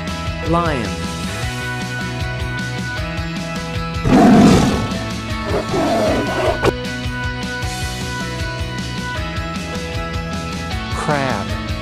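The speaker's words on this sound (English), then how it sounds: "Lion." A lion lets out a short, loud roar near the middle, with music running underneath the whole time.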